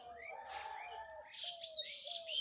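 Small birds chirp and tweet in a garden, with quick rising and falling calls overlapping at close range, fairly faint, with no voices.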